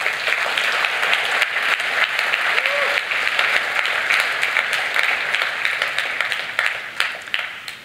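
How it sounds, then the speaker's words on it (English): A large audience at the Ubuntu Summit 2023 claps and applauds steadily for several seconds, a dense, bright wash that thins slightly toward the end. "Can I get a round of applause for that?"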